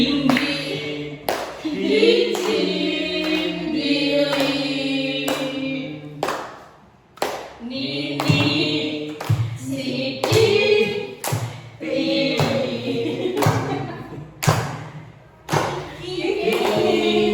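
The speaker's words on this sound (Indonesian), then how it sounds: "Oke, sambil tepuk-tepuk, ayo." Rhythmic group clapping keeps time under singing voices at an Indonesian primary school gathering, with sharp claps punctuating the tune at regular beats.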